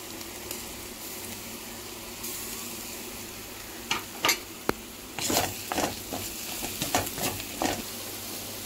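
Ginger-garlic paste hits hot oil in a pan while paneer and capsicum curry is being cooked. A soft, low sizzle builds under scattered scraping stir strokes and light clanks that cluster in the second half.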